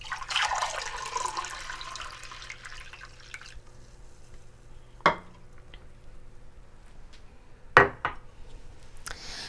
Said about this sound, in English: So I'm going to pour this over the sink so it doesn't.